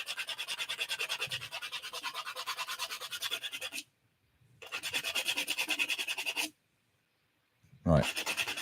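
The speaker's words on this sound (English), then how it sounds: "That's my little sanding disc." Small sanding disc running on a lathe against an antler thimble, a steady raspy whir in two long bursts with gaps between, then a brief sharp knock at the end.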